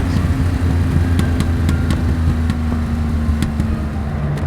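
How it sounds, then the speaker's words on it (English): A 1973 Porsche Carrera RS recreation pulls hard under acceleration, its engine a steady close drone with a few sharp ticks and clicks on top, heard from inside the car with nobody talking. "I can't believe how well this car pulls."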